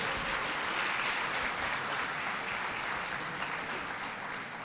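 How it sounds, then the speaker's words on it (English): An audience at a graduation oath-swearing and awards ceremony applauds, a dense, even wash of clapping that holds steady for several seconds and eases slightly toward the end. "Give yourselves a round of applause again."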